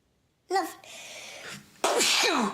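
A single sharp sneeze bursts out close up, preceded by a short breathy intake and vocal sound, loud and sudden.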